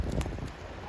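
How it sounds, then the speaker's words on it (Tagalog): Geese honk and call while being fed; the honks are brief and close, overlapping in a short burst with steady background noise. "かわいい鳥。"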